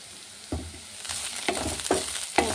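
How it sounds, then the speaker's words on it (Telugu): Bitter gourd pieces frying over a medium flame make a soft, continuous sizzle, with a few sharper crackling bursts as they are stirred at a steady pace. "ఓకే అండి, ఫ్రై అయితే అవుతున్నాయి."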